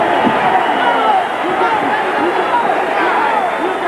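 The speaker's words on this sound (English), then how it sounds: "So the big crowd at the Civic Plaza Arena in Phoenix, appreciating the effort." A large crowd at the Civic Plaza Arena in Phoenix cheers and applauds after a welterweight boxing bout, a loud, dense roar of voices that carries on steadily from start to finish.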